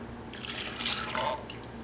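A cup of water pours into a saucepan holding washable tempera paint, a brief close splash and trickle lasting under two seconds.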